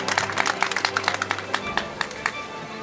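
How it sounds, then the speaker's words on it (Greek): Warm applause for Matthaios Chouzouris, fourth-place swimmer at the award ceremony of the 55th International Toroneos Gulf Swim Crossing, with scattered claps fading after a couple of seconds and a little background chatter. "ένα θερμό χειροκρότημα"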